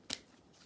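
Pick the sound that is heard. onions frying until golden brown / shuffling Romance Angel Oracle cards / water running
shuffling Romance Angel Oracle cards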